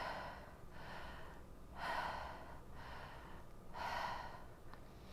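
A person demonstrates forced, muscle-driven breathing during a conscious connected breath tutorial. Two loud, rasping inhales come about two seconds apart, each swelling and fading, with quieter breath noise between them and no talk.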